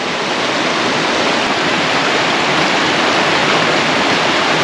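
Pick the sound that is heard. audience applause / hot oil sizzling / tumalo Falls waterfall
tumalo Falls waterfall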